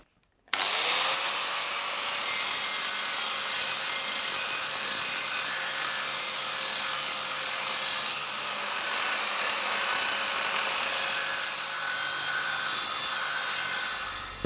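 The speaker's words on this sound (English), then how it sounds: "I'm just going to bevel it in preparation for my weld seam." A steel wheel rim edge being beveled for a weld seam, most likely with a power grinder, heard as a loud, close, continuous high-pitched grinding whine with a steady tone that starts abruptly and runs without pause, with no talk.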